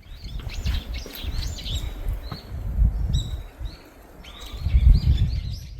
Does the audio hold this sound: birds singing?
yes